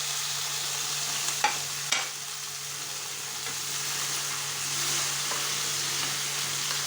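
Tomatoes fry in a pan with a steady, even sizzle throughout, broken early by a couple of soft utensil knocks.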